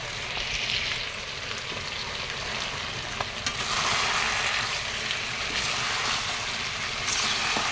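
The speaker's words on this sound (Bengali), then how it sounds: "আমার এখানে মাংসটা ভাজা হয়ে গেছে মাংস থেকে জল সুন্দর মতো বের হয়ে গেছে" Pieces of meat fry in a pan with a loud, dense, unbroken sizzle from start to finish. A single sharp clink cuts through partway, and the sizzle swells slightly afterward. No voices are heard.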